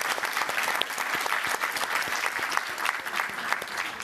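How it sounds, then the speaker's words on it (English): Audience applause for the panelists closing a development-policy panel discussion, a steady dense clapping from a mid-sized crowd that stays even and fairly close throughout. "So please give them a warm round of applause"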